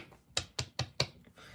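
A deck of playing cards gets one full shuffle at a live-streamed table, producing four crisp, evenly spaced riffling snaps up close, then a softer brief rustle as the cards settle.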